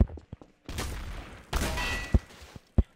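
Gunfire in the Garry's Mod game mode Trouble in Terrorist Town: a few sharp single shots, then two sustained bursts of rapid fire with a booming report between them, close and loud.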